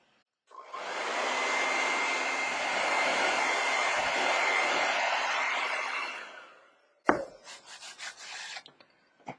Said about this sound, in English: Now, we're going to just stop and dry everything. That's the secret. We're going to dry it all.